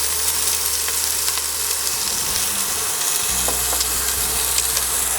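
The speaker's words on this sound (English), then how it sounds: "we're just going to fry those up until they're getting nice and fragrant and those onions are starting to get slightly translucent" Chopped onions frying in hot oil in a pan make a steady, bright, close sizzle with light crackle and a low hum underneath. No voices.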